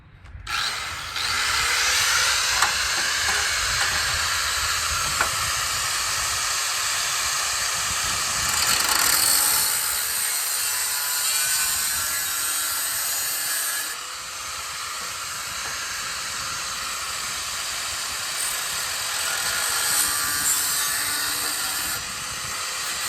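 Cutting the muffler off a 1957 Harley-Davidson Servi-Car exhaust with a power tool: a loud, sustained, hissing high-pitched whine that runs nearly unbroken, easing off briefly partway through before continuing, close by and with no talking.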